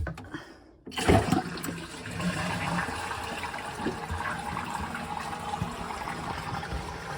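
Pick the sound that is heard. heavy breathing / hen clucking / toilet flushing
toilet flushing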